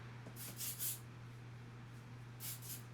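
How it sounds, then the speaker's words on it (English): Two short hissing bursts from a spray can, close by, with a quiet pause between them. "So now I'm just spraying this side down."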